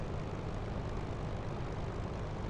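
Propeller aircraft engine held at 2,700 RPM in the War Thunder flight game, a steady, dense, continuous drone with a strong low rumble and no gaps, running alone at a constant level.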